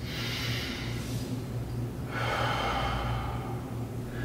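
A person breathes audibly in and out while demonstrating an inchworm exercise, with two or three close, airy inhales and exhales, each lasting about a second, and no talking.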